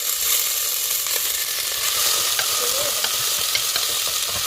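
Chopped onions, garlic and curry leaves frying in oil in a pan for fish curry, a loud, constant sizzle with stirring scrapes, close and alone.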